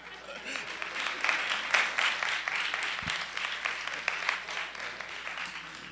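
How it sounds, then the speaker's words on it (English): A talk audience claps in a moderate, sustained burst of many hands, fairly near, with a speaker's voice coming through under the applause. "You people will clap at anything."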